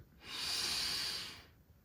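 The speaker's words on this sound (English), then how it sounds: "Breathe in through your right." A slow, steady breath drawn in through the right nostril during an alternate-nostril breathing exercise, a soft, close airy hiss lasting just over a second and heard alone.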